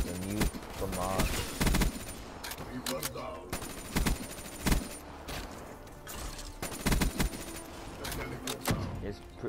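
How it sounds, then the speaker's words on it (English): FAMAS assault rifle fire in Black Ops 3, sharp bursts of automatic shots repeating across the whole stretch, loud and close. Brief talk sits under the game sounds. "There it goes. The new FAMAS."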